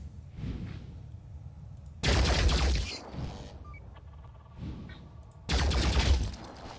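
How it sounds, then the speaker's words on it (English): Synedrion soldier opening fire in the Phoenix Point video game: two loud, dense bursts of gunfire about three seconds apart, each a roughly one-second volley, with quieter shots and rumble between them. "he's just gonna do blam blam, shoot into this guy"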